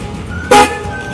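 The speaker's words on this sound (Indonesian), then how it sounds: "Di dalam shroud ini saya udah menggunakan klakson keong dari Denso. Tapi entah kenapa nih, sekarang klaksonnya udah berubah suaranya." A Denso snail horn on a motorbike, its tone gone off, gives one short, loud, nasal honk that cuts off quickly against a quiet background.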